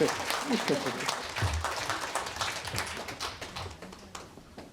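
A crowd at a warm-hearted political talk event in Dobong claps steadily at moderate volume throughout, with voices talking briefly at the start.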